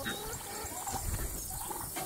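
Soft, low pig grunts and snuffling rumble steadily in the background, quiet and muffled, with no clear pauses.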